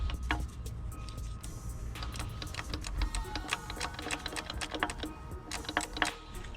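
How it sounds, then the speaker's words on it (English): A socket wrench ratchets a rocker cover bolt loose on a Mini R53 engine, with rapid dense clicking in quick bursts, close and fairly quiet, with no talking. "Just get the socket down in that little gap. And you can start getting that bolt off."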